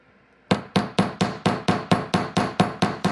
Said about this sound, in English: And I'm not hammering past my Sharpie mark here, okay?